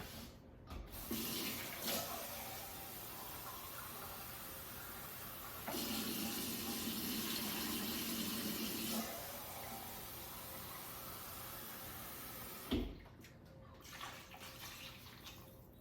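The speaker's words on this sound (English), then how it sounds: "now what I'm going to do is just put in a couple cans of water" Water pours steadily from cans into a pot of potatoes, a continuous rushing splash in several long stretches with brief pauses and clunks between, close and alone with no talk.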